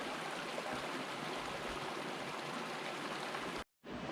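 A creek in Zion spills over a small cascade waterfall, giving a steady, dense rushing of water close by that fills the whole clip, with only a brief break near the end.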